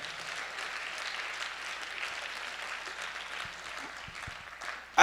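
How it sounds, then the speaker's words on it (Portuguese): A church congregation claps along together during a sermon, a steady dense wash of many hands at moderate level, with a brief louder burst at the very end. "Joga as mãos ao alto e aplauda ao Senhor"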